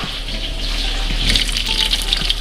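Fish frying in a pan, a loud, steady hiss and sizzle of hot oil held close throughout, with no talk over it.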